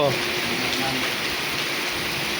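Heavy rain falls steadily in a village street, a dense, even hiss of water that stays constant from start to finish.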